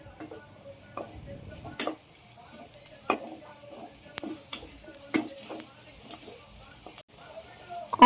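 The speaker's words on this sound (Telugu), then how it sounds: "సో సిమ్లో పెట్టేసి మంచిగా ఫ్రై చేసేస్తున్నాను" Onions and green chillies fry on a low simmer in a pan for a dried fish curry, with a quiet sizzle under sparse clinks and taps of a stirring spoon against the pan.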